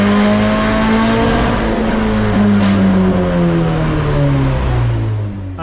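Turbocharged 1.6-liter Miata drift car engine running hard on a dyno as boost pressure is raised, a loud, steady droning roar with harmonics that slowly sag in pitch throughout, close and continuous, no voices.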